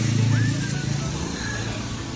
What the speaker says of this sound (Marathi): पण इथं ट्रॅफिक लागलं आहे पुढे.